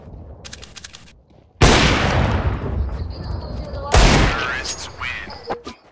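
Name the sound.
gunfire and a headshot in the video game CS:GO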